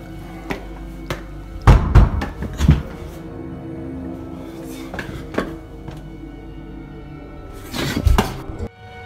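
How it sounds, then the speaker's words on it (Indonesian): Sharp wooden knocks in a dim, quiet room, a few isolated thuds spaced apart with a cluster near the start and another near the end, fairly close and distinct against a low background hum. "Tiba-tiba terdengar suara lain tanpa wujud, mengetuk."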